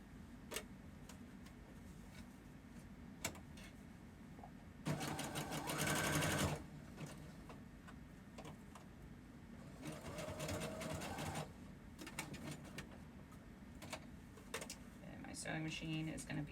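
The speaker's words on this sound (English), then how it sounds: "I'm switching to a zigzag stitch on my sewing machine" A sewing machine whirs in short bursts, zigzag stitching stretchy fabric briefly, pausing, then running again, with faint ticks and rustling between runs.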